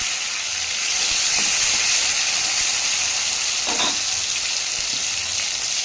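Eggplant frying in a pan with chopped tomato added, a continuous loud hissing sizzle with a couple of faint scraping stirs.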